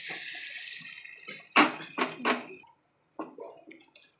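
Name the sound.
water poured into pan of chicken curry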